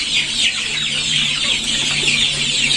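Chickens on a poultry farm cluck and chatter continuously, many birds overlapping close by in a busy, lively shed with a faint steady hum underneath.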